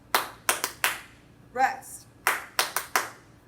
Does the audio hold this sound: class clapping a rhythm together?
yes